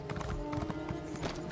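Horse hooves clip-clop in a quick, regular rhythm as a mount travels in the video game Elder Scrolls Online, moderately quiet, with game music tones underneath.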